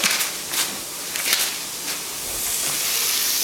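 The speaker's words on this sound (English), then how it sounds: "Gonna drop the onions in there. We just want to sweat them." Chopped onions sizzle in a skillet being lightly sweated for risotto, giving a steady, fairly loud hiss with a few crackling spikes early on that settles into an even sizzle.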